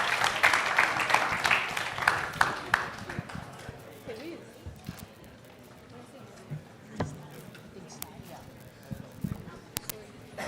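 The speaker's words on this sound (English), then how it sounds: "Let's give them a big round of applause." At a student conference session on essay writing, an audience briefly applauds to welcome the speakers, clapping loud at the start and fading after a few seconds into scattered room noise and talking.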